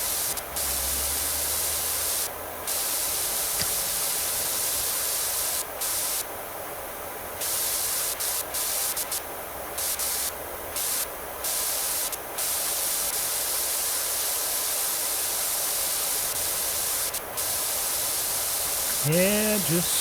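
Steady, powerful pressure-washer spray from PowerWash Simulator 2 blasting a truck, a dense continuous hiss lasting the whole stretch with brief dips where the jet pauses, loud and close, with occasional faint talk over it.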